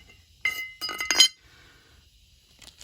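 A metal bearing retainer slides onto a Ford 8- or 9-inch rear axle, giving a few bright metallic clinks and a short rattling scrape up close, then quiet.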